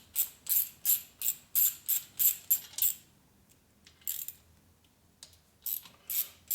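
A ratchet wrench loosens rocker arm bolts on a 2004 Harley-Davidson FLHT Twin Cam touring engine, clicking in about ten quick rhythmic bursts, then a few scattered clicks after a pause, close and clear.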